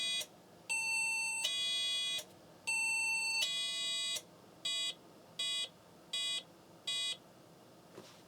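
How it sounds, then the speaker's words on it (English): Electronic computer BIOS beep code: four long, high tones in two pairs, then five short beeps evenly spaced, with a faint hum underneath. "That did 3 beeps, right, for bit 3."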